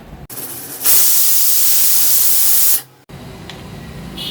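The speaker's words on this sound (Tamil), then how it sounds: "நல்லா ஆவி வந்துட்டு இந்த குக்கர் வெயிட்டை போட்டுடலாம்" Loud, steady steam hiss from a pressure cooker while a lunch-box dish cooks. It starts abruptly, holds for about two seconds and cuts off, with quieter kitchen background before and after.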